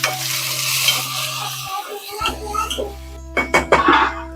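Onions fried to golden brown in a pan for gongura chicken curry, with chopped tomatoes added, sizzle and get stirred; the frying hiss runs steadily, with a few scraping stir bursts near the end and a brief voice.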